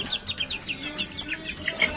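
Chickens cluck in a steady run of short, close calls with a few higher chirpy notes, continuous over about two seconds against faint background noise.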